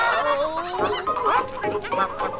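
Loud, close clucking and squawking from several fowl, overlapping in quick agitated bursts.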